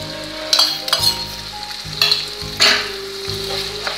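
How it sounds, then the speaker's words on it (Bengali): Paneer curry with cashew paste and whisked yogurt stirred in a frying pan, steady sizzle punctuated by several scraping strokes and light spoon clinks, close and clear with no voices. "দিয়ে আবার ভালো করে নাড়াচাড়া করে কিছুক্ষণ কষতে থাকবো"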